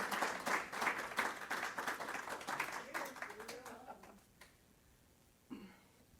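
Loud audience applause at a lecture on bird conservation, many hands clapping, fading out after a few seconds into quiet room noise and a cough.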